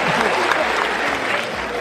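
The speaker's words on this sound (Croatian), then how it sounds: "To je taj težak aplauz" Audience at a stand-up comedy show clapping, a dense patter of many hands held steady for the whole moment, fairly close, with a voice faintly mixed in.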